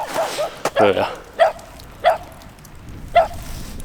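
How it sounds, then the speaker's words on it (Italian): A small dog yaps a few times at a distance in quiet mountain country near Falcade, Italy, sharp, evenly spaced barks over faint background noise and some nearby talking. "Adesso c'è un cagnetto che sta facendo che abbaia"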